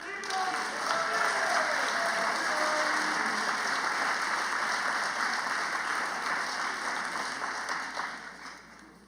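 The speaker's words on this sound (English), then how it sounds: "Let's give one more round of applause." Sustained applause from a crowd at a high school football banquet, steady clapping over a constant room hum, with some voices mixed in, gradually tapering near the end.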